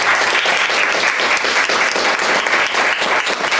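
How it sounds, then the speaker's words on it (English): A university mooting final audience gives a round of applause, with dense, even clapping that stays loud and continuous throughout. "Round of applause, please"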